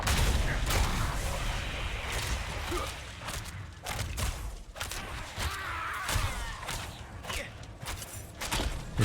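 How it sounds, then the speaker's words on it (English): Repeated booming blasts and crackling bursts from a shadow explosion effect in Diablo IV, rapid and layered over dense game noise throughout. "It's that shadow explosion"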